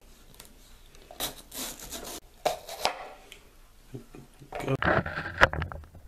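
Chop Magic manual food chopper cutting a red pepper, giving irregular bursts of rubbing, rasping chops that grow denser toward the end, close up, with a brief spoken word.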